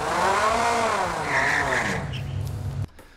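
A tire squeal sound effect from the Krotos Igniter car plugin: a loud, sustained screech with a revving car engine underneath, fading to a low rumble before cutting off abruptly near the end.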